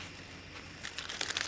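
A plastic bag crinkles softly and close up as it is tied with twine over a section of manzanita leaves, with quiet rustling that grows into sharper crackles toward the end.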